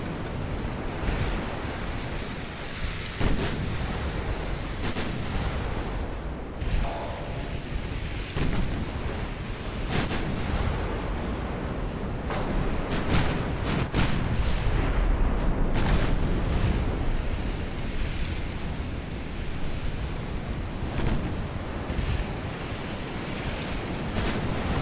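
Naval gunfire from 1890s-era warships in the naval strategy game Ultimate Admiral: Dreadnoughts, with scattered heavy booms over a steady roar of sea waves and wind throughout.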